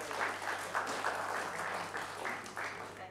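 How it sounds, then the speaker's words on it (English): A church congregation claps during a Sunday service, the applause moderate and fairly even with rhythmic bursts, a low steady hum beneath and some voices mixed in. "Give her a clap."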